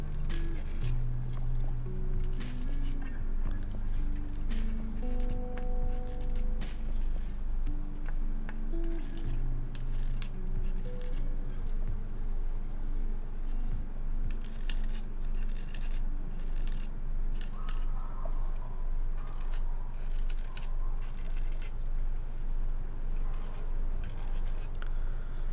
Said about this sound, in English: this is a pretty fine grit file